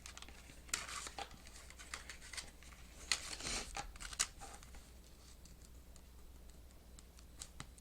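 Scissors or a trimmer cutting through glued cardstock in short crisp snips and crinkles, quiet and close, with no talking.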